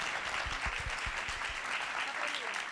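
Audience applause at a conference on education and employment in Río Cuarto, a continuous faint patter of many hands clapping, with a few louder claps near the start and voices talking faintly over it.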